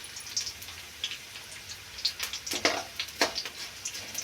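Urad dal frying in hot oil for carrot rice, a soft steady sizzle with scattered light crackles and pops, close and fairly quiet.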